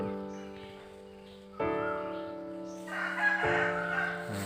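A rooster crows up close in a shady forest temple ground, with several long, harmonic-rich calls that rise and fall one after another against a quiet background.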